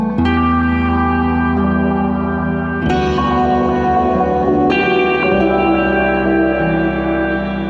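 An Old Blood Noise Darklight pedal on its Sunlight reverb side spreads a loud, lush wash over sustained chords, with echoing, shimmering tails and a few fresh strums that swell and blur together. No one speaks.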